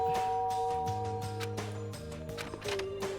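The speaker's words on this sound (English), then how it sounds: "There's a doorbell next to the door." Doorbell chime from the Danganronpa video game rings out in a few clear melodic tones over looping game music, close and moderately loud.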